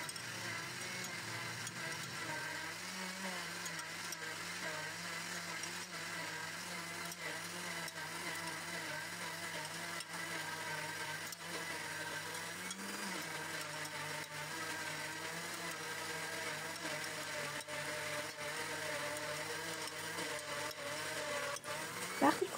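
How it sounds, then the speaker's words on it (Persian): A blender grinds sesame seeds into paste, its motor whirring as a steady, fairly faint continuous drone with a slight pitch shift midway. "و میذاریم که آسیاب بشه"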